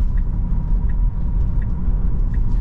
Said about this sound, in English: And the car is still driving.